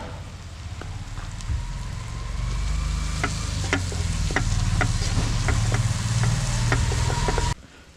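Onions sautéed in a pan with chili powder and salt give a steady, close sizzle with soft stirring and scraping, continuous for several seconds before cutting off abruptly near the end.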